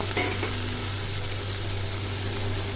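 Chopped tomatoes tipped into onions frying in a pan: a brief clatter at the start, then a loud, steady, close sizzle with faint stirring.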